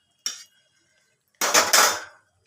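Cooked, already-fried meat tipped into a metal pan for an egg-chicken dish, a short clatter followed by a longer scraping, sizzling pour with metal-on-metal knocks, close and fairly loud, no talking.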